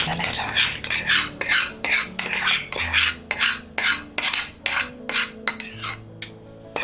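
A spoon stirs whole tempering into cold curd rice, making repeated rhythmic clinks and scrapes against the bowl, about two strokes per second, close and distinct.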